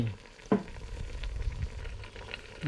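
Water poured into dry-roasted frog curry ingredients in a pan over a charcoal stove gives a steady crackling sizzle with stirring and scraping, close and moderately loud.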